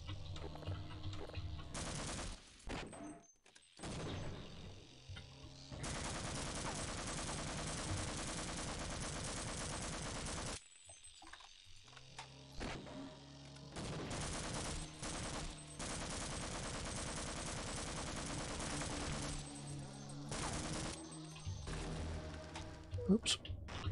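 Sustained bursts of automatic gunfire at a monster in the shooter game Half-Life: Opposing Force, loud and dense with brief pauses between long volleys, with talk over parts of it.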